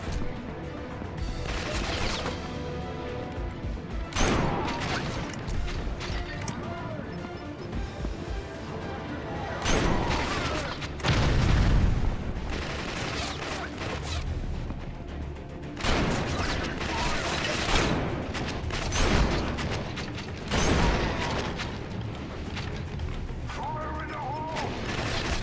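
Shotgun blasts in the video game Killzone: Mercenary on PS Vita burst out loudly at irregular intervals, about half a dozen sharp booming shots separated by quieter stretches of game noise and mechanical clatter.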